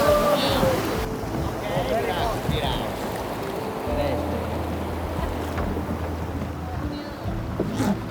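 A boat ride on a Japanese river with strong currents and hidden rocks gives a steady, close rush of water and engine noise with wind buffeting, and voices are faintly mixed in throughout.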